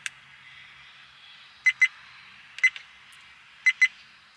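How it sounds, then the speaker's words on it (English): A Viofo A129 Plus Duo dash camera fitted in a 1957 GMC emits short electronic beeps in pairs, three double chirps spaced about a second apart, clear and close in a quiet cab. "Why are you beeping all the time?"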